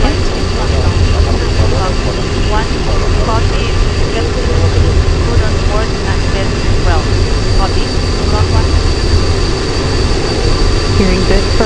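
Soyuz MS-10 first-stage engines and four boosters roar during launch in a dense, steady, loud rumble heard from onboard, with a voice talking over it.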